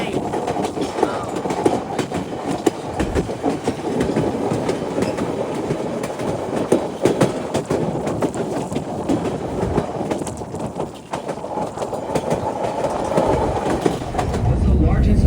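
The White Pass tourist train in Skagway, Alaska, rumbles along its rails with a steady clatter and hiss, loud and close throughout, while people talk faintly over it.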